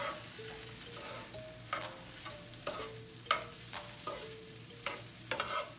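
Fried rice with egg is stirred and scrambled in a pan. A spatula scrapes repeatedly in quick, uneven strokes over a soft sizzle, close and fairly quiet, with no talking.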